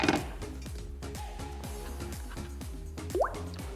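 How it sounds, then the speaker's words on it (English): Water runs and drips into a cooking pot in a rapid, rhythmic series of plopping, gurgling pulses, close and moderately quiet, with a brief higher squeak near the end. "So let me fill this pot with water."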